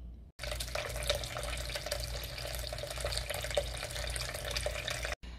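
Running water from a tap steadily covers a ball of seitan dough made from home-ground flour, a constant close hiss with a slight splash that holds nearly unbroken apart from two brief cutoffs.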